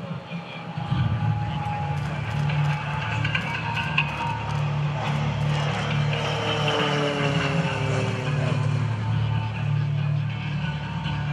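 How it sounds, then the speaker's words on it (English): A T-6C Texan II turboprop trainer at an air show approaches and passes, a steady propeller drone with a faint rising and falling whine, moderately distant, over a low background rumble. "watch the T-6 Texan II as it approaches from the right"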